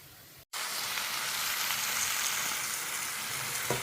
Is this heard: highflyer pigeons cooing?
no